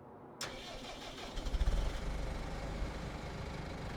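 A tractor's cold engine cranks and catches in the video game Farming Simulator 25, an abrupt start followed by a few uneven low chugs that settle into a steady rumbling idle, loud and close, with no speech.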